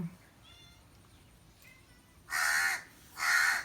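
A crow caws twice, loud and close, in two harsh bursts about a second apart after a quiet stretch with faint calls.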